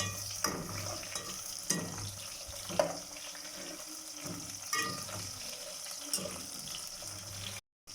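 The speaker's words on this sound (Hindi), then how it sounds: "मिर्चों को हमने हल्का सा फ्राई कर लिया है।" Green chillies frying with onions in a pan for dhaba-style chana dal, a steady soft sizzle broken by several sharp scraping stirs at irregular intervals.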